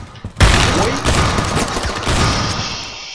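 A shotgun blast in the shooter game Phantom Forces: a loud, sudden boom with a dense burst of noise that tails off over several seconds, heard close up and with no voices.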